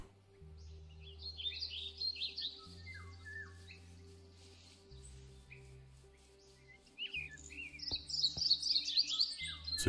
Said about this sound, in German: Was ist das denn? Achso, Vögel.